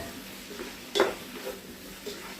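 Tomato is sautéed and stirred in a pan, giving a quiet, low sizzle with one clear utensil scrape against the pan and a few softer stirring touches.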